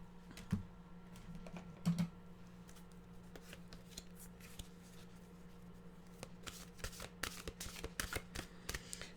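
A deck of mantra cards is shuffled close by in a quiet room, with a few crisp riffles early on, then a long run of soft, rapid flicks and slides that grow busier toward the end.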